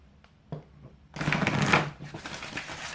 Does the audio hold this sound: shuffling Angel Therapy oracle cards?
yes